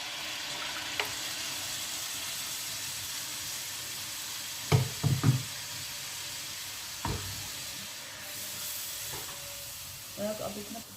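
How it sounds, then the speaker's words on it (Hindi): Yogurt paste fries in hot oil, giving a steady close sizzle with a few sharp spoon clinks and stirring knocks scattered through it; no talking. "अब उसी ऑयल में जो दही वाला हमने पेस्ट बनाया है वो डाल देंगे।"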